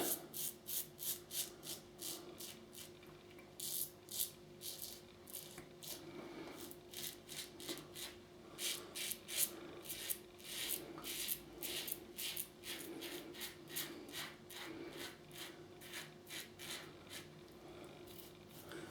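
A safety razor dragged through lather on a wet shave's second pass, quick close scraping strokes in rapid rhythmic runs, crisp and faint, with no talk.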